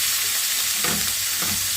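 Leeks sautéing in butter in a frying pan give a loud, close, steady sizzle with a couple of brief swells of crackle.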